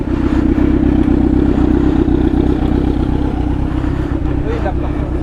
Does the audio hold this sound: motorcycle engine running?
yes